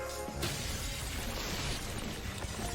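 Glass thrown and shattering in a TV show scene: a sudden burst of breaking glass within a dense, noisy soundtrack that keeps a steady loud wash throughout.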